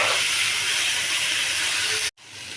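Steady loud sizzle of ingredients dropped into hot oil for chao chao, a broad hiss filling the pan for about two seconds before cutting off abruptly, then a quieter sizzle resuming.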